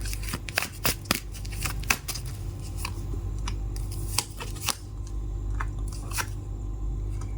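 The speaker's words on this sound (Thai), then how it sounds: "มาเปิดไพ่คำแนะนำปิดท้ายนะคะ" A deck of tarot cards shuffled by hand before an advice card is drawn, heard up close as rapid, uneven bursts of crisp card slaps and riffles over a low background hum.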